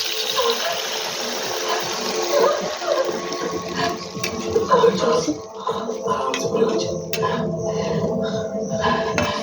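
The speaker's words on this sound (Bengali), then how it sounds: "এবার আমি জল ফেলে দেবো।" Water pours into a pan of fried hilsa fish being cooked with black cumin, a steady close splashing gush that runs for several seconds.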